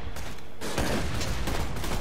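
Rapid gunfire from a fast-shooting gun in the video game Borderlands 2, a dense, loud fusillade of overlapping shots that swells after a brief lull and carries on steadily to the end.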